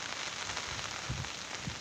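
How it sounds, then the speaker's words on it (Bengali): Steady patter of rain on a surface, fairly soft and continuous, with a few low thumps underneath and no voices. "এই দেখো বন্ধুরা, বৃষ্টি হচ্ছে"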